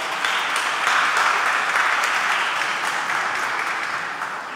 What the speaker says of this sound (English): Can we give them applause of goodbye?